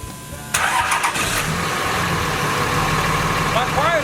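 An Audi engine with a newly fitted turbo-back exhaust cranks and catches at about half a second, then settles into a steady, fairly loud idle with a low rumble that holds to the end.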